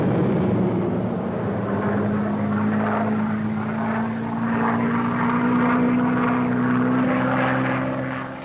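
Propeller engine drone of WWII fighter planes attacking enemy shipping, a steady loud hum with a slowly rising pitch that holds throughout without any voices.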